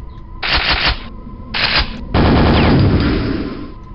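Nail gun firing in the video game Quake, three loud rapid-fire bursts, two short and one longer, a dense mechanical rattle with no talk.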